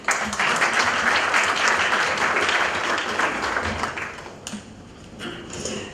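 An expo audience in Mumbai breaks into loud, dense applause that holds for about four seconds, then thins into a few scattered claps and taps before fading out.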